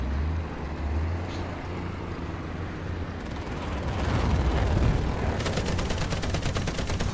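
Gunfire in a video game, a dense rumbling barrage that builds into a rapid, evenly spaced burst of automatic shots toward the end, loud and steady, with no voices.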